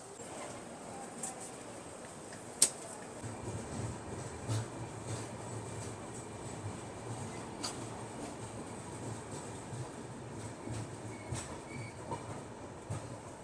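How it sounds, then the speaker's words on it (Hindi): The Jharkhand Swarn Jayanti Express pulls out of Anand Vihar railway station, heard from inside coach B4 as a steady low rumble of moving rolling stock, with scattered sharp clicks and knocks and no talking. "अपनी झारखंड स्वर्ण जयंती एक्सप्रेस निकल चुकी है आनंद विहार रेलवे स्टेशन से"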